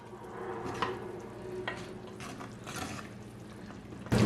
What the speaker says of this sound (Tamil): இப்போ ஒரு 5 நிமிஷமா இதுல இருந்து கொதிச்சு கொண்டிருக்கு